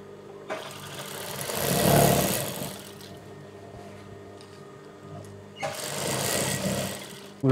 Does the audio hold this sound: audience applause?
no